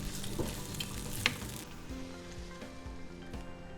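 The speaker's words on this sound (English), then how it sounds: "you add everything into a skillet on medium heat with 1 tablespoon of olive oil, salt, and pepper, and let them cook for just a couple of minutes" Ingredients fry in a skillet over medium heat with a tablespoon of olive oil, salt and pepper, giving a steady close sizzle with a few louder pops and crackles throughout.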